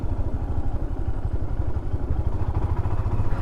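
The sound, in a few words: motorcycle riding on mountain road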